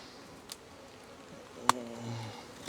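A bee swarm hums faintly in the background during a scooping job, a low buzzing drone broken by a few sharp clicks and knocks, with one louder tonal buzz rising briefly near the end.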